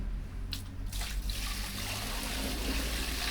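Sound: water poured into a toilet drain

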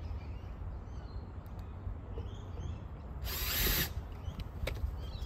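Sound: power drill driving screws into PVC fence rail bracket

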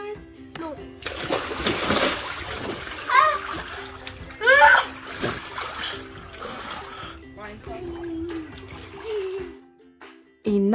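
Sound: children splashing in a water-filled tub

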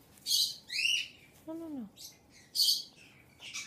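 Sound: pet bird chirping

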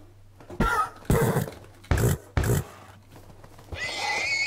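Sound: horse neighing in the video game Minecraft

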